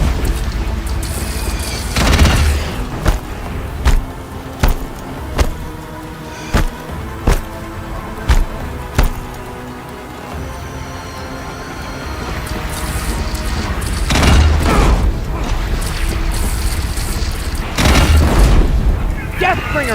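A Deathbringer war machine in Horizon Zero Dawn fires explosive rounds, a series of sharp, evenly spaced blasts followed by heavier, rumbling booms, loud and close, with a voice speaking over the action.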